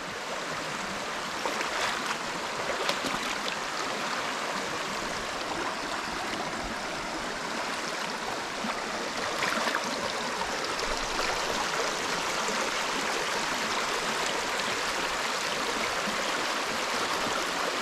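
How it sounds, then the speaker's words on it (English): A wide creek flows steadily, a continuous close rushing and gurgling wash of water that holds even throughout with no voices. "This creek is much bigger than I thought it was."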